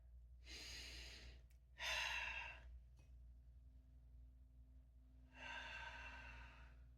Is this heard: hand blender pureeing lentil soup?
no